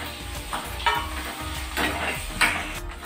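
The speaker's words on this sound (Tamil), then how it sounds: "தக்காளி ஆட் பண்ணிடுவோம். வதங்கட்டும்." Tomatoes softening in a hot pan for Kerala kadala curry give a quiet, steady sizzle, broken by a few soft stirring scrapes.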